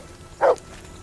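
One short, clear bark from a dog in Kingdom Come: Deliverance II, heard alone against quiet background noise.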